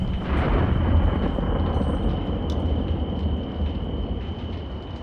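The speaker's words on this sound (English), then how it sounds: "Inside the walls of a castle during a storm." A storm heard from inside castle walls for a tabletop fantasy roleplaying game: a deep, sustained rolling rumble of thunder swells early, then slowly fades over a continuous low wash of wind and rain, with no voices.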